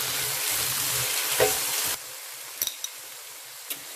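Chicken chow mein noodles sizzling and frying in a pan with soy sauce, steady close crackle with a few sharp scraping stir strokes, louder for the first two seconds then softer.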